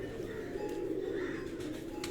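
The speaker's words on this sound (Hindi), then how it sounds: "ये कबूतर दोस्तों" Pigeons cooing steadily amid a dense, constant outdoor hum, the low soft calls blending into continuous background noise with no clear pauses.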